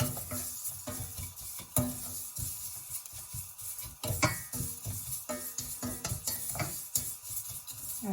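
Saveiyaa vermicelli cooking in a pan over medium heat, with a continuous close sizzle and repeated scraping stirs and clinks of the utensil against the pan, fairly loud with no voices.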